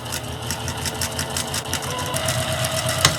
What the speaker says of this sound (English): We're on the Juki today, so. Okay, slow. And I'm going to give it a back stitch.